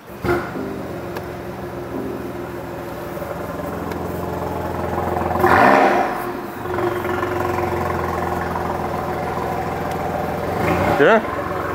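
A four-cylinder hybrid car engine idles and then revs up in short bursts, loud and close, with people talking over the running motor.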